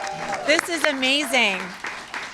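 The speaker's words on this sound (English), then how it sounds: "Let's give ourselves a big round of applause." An audience at a Seattle Earth Day event, where the mayor signs an executive order, applauds itself in a steady wash of clapping beneath a close, excited speaking voice.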